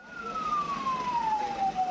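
A fire engine siren at the Ubud art market fire wails in one long, slowly falling tone, moderately distant over steady street and engine noise.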